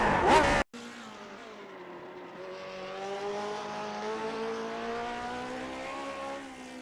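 A Lotus 49 race car with a 3-liter Ford V8 at Watkins Glen: after a brief loud burst, the engine drones steadily at a distance, its pitch climbing gradually as it accelerates.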